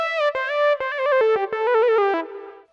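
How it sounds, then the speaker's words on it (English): Korg Nautilus synthesizer lead patch played alone with heavy pitch bends, a bright buzzy tone sliding and wobbling between notes in quick separated phrases, ending on a softer fading note. "Firstly, what is pitch bend?"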